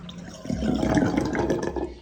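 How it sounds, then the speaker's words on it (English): Water running from a tap and draining down a sink with an open plug, a close, gurgling splash that swells and fades over about two seconds with no talking. "just let all the water go down and just leave it in there"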